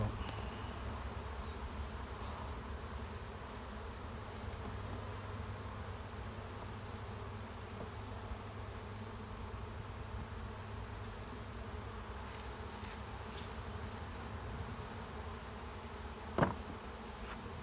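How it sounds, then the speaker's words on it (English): Honeybees shaken into the top brood box of a hive during a spring inspection make a steady, dense humming buzz throughout, with a single brief knock near the end. "I'm just dropping these bees into the top brood box"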